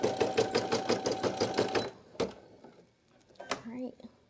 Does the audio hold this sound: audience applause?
no